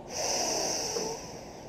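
A slow, steady breath drawn in and let out through the nose during a seated fascia stretch with the tongue pressed into the left cheek, a soft airy hiss swelling for about a second, then easing.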